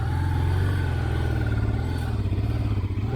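Motorcycle engine pulling away in first gear on a ride into the Alps, a steady low engine drone with rhythmic pulsing, close and continuous throughout.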